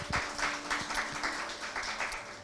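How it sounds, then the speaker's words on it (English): Soft applause from an audience for two speakers at a talk, a light, fairly faint patter of clapping heard alone against a low background hum. "Can we give speakers both a round of applause?"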